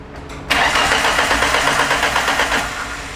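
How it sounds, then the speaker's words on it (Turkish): A car's starter cranks in one continuous, loud, close burst of rapid rhythmic churning, but the engine never catches and runs. "gördüğünüz gibi araçta marş var ama araç çalışmıyor"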